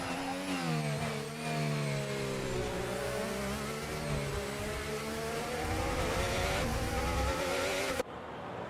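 Stuttering Formula 1 car engine in a racing video game at a Japan round, a continuous buzzing, wavering whine with rising and falling pitch, loud and steady throughout, no talk.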